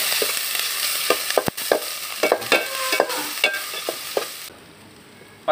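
Crushed ginger and garlic frying in a pan for a clam roast, a dense bright sizzle with repeated spatula scrapes and taps, close and loud, before the frying hiss drops away near the end.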